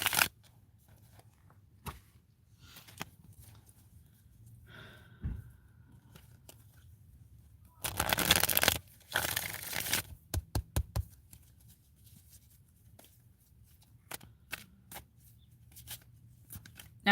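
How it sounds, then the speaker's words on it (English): A tarot card deck is shuffled nearby in a few short, dense riffling bursts, with quiet pauses and soft handling noises in between. "Let me clear the energy from my hands and give my deck a good shuffle before I start the timer for you, Mel."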